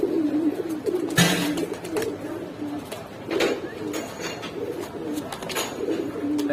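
Rajshahi Giribaz pigeons coo nearby in low, repeated throaty rolls, with a few brief rustling bursts mixed in.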